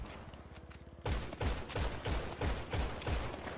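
Rapid gunfire in GTA 5 Online, a quick series of sharp shots at an even rhythm, loud and close with no talk over them.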